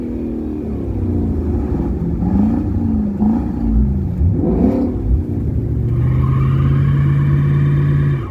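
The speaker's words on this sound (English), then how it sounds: "Didn't mean to do a burnout there, but I did." Ford Mustang engine revving hard through a burnout, pitch climbing and falling in surges before settling into a loud, steady high drone, close and continuous with no talking.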